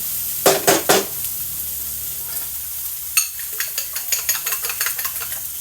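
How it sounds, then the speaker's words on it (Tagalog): Beaten egg goes into a pan of sizzling Filipino garlic fried rice (sinangag), a steady hiss with bursts of metal utensil scraping and tapping as it is stirred up close. "pwede nang ilagay ang itlog na binate dahil luto na"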